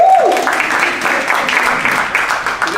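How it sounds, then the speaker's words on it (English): Audience applause in a room, a steady wash of clapping from a modest crowd lasting a few seconds, moderately loud with a brief voice at the very start. "Round of applause for green."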